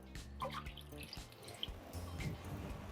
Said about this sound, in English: We get in our beef broth here.